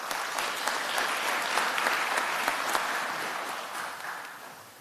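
An audience at a renewable energy conference applauds in a dense, even wash of clapping that fades gradually toward the end.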